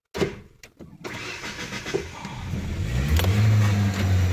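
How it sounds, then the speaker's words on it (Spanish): A Ford Ranger with a rough, unstable idle cranks and catches, a few starter clicks giving way to the engine firing, rising and settling into a loud, low rumble up close. "Ahí quiso encender."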